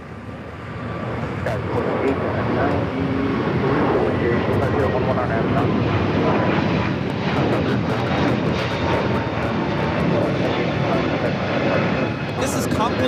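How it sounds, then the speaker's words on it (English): A JetBlue Airbus A321neo takes off from LAX bound for JFK, its loud, steady jet roar swelling in within the first second and holding strong for the rest of the stretch. "JetBlue 224 taking off to JFK, the A321neo"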